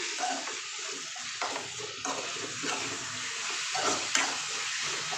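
Food frying in a pan is stirred, steady sizzling with irregular scraping and stirring clatters, close and moderately quiet, with no talk.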